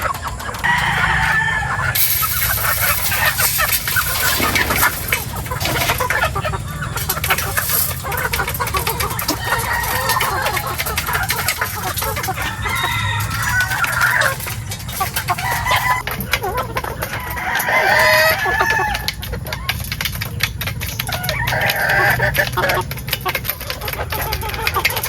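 White Kelso gamefowl roosters cluck and crow nearby, with several birds calling over one another in a busy, continuous farmyard chorus while someone talks among them.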